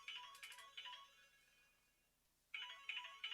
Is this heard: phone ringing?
yes